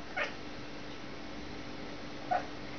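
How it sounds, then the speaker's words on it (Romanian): A cat meows twice, short faint calls near the start and end, separated by quiet background hiss. "Pisicuța vorbăcioasă?"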